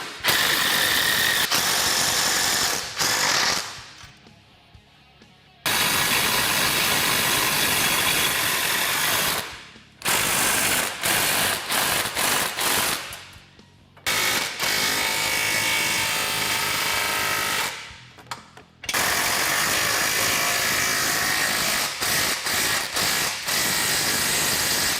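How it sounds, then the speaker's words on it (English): A ratchet fully tightens the frame stiffener and A-arm bolts on a Kawasaki Teryx KRX 1000, giving long loud runs of rapid clicking that pause briefly several times and then resume, up close with no talking. "Now we're going to go through, fully tighten all of our hardware."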